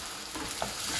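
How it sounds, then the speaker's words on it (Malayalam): Chopped onion drops into hot oil with popped mustard seeds, sizzling and crackling steadily, with a brief scrape of stirring; close and fairly quiet. "സവാള ഇട്ട് കൊടുക്കുന്നു"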